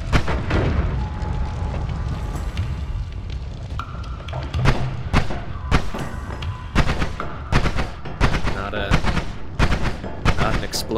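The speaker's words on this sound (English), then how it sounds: "Explodey mine down there? That looked like a exploding mine." Explosions from a mine and other blasts in the video game Noita, a dense run of loud booming bursts repeating quickly, almost like rapid gunfire, filling the whole stretch with hardly any gaps.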